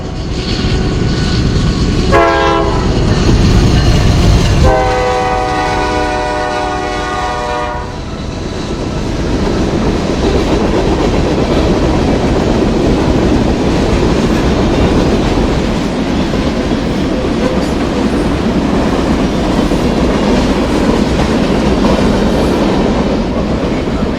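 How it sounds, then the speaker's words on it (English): A Norfolk Southern freight train in Ohio passes close by. Loud horn blasts sound early, then a continuous heavy rumble and rolling clatter of cars carries on to the end. "Train 116 at milepost 196."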